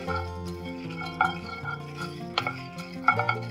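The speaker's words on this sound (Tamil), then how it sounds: "இது எல்லாமே வெறும் வாணலியில அப்படியே போட்டு ட்ரையா வறுத்துக்கலாம்." A spoon stirs and scrapes coriander seeds and three dried red chillies dry-roasting in a plain pan with no oil, giving close, soft rattling and occasional metallic clinks.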